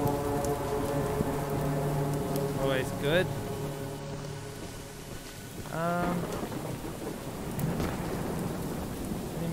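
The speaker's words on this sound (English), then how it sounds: "Wires crackling in the rain." Steady rain and low thunder rumbling through a night scene in the video game Choo-Choo Charles, running continuously under a voice talking over the gameplay.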